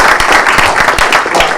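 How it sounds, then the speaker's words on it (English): Audience clapping at a community forum as a speaker is called up, a loud, close, steady patter of hands with some individual claps standing out through the short burst. "let's give him a round of applause"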